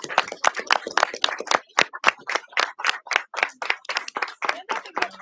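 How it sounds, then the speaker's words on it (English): A small group at a school board meeting claps for Tom, distinct individual hand claps in an uneven, fairly quick rhythm, close and moderately loud in a quiet room. "let's give Tom a round of applause to show our appreciation"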